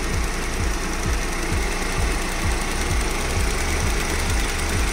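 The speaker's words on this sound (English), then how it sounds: "So here we have the BMW petrol engine, 2 liter. 2-liter petrol engine." A 2017 BMW X1's 2-litre petrol engine runs steadily at close range, with an even, rapid ticking pulse over a constant mechanical hum and no talking.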